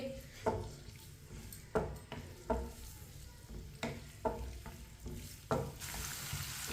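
Onions frying over medium heat in a pan for mash daal, a spoon scraping and stirring them in repeated sharp strokes over a steady close sizzle.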